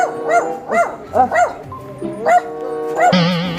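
A dog barks repeatedly in quick, yappy bursts close up, over bright cartoon-style music.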